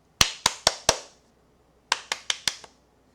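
Hand clapping used to imitate ocean waves in a third-grade music lesson: two sharp bursts of four claps each, separated by a pause, close and loud with short ringing tails.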